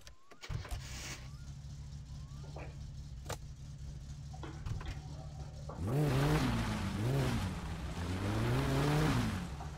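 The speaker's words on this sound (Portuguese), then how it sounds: "Vamos ligar o carro e vamos embora." In the My Summer Car video game, a car engine cranks and starts after a few clicks and knocks, then revs and drives with a rising and falling engine drone.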